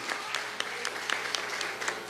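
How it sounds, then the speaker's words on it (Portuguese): A church congregation at a Sunday evening service applauds for William, a steady patter of clapping from a moderate-sized crowd that holds evenly for about two seconds. "Uma salva de palmas, né, para o William"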